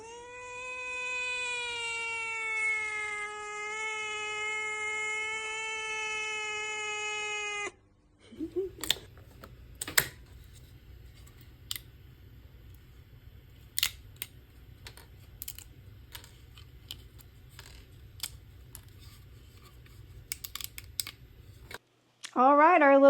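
A Bambu Lab A1 3D printer prints a small cat model. It opens with a sustained, wavering motor whine, then shifts to a low steady hum dotted with sharp ticks and clicks, ending in a brief burst of pitched tones.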